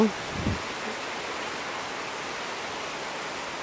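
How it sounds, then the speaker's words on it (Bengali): Heavy rain pours in a dense, even hiss with a cool wind, holding steady throughout, with a brief thud at the very start. "ঠান্ডা বাতাস আর ঝুম বৃষ্টি হচ্ছে"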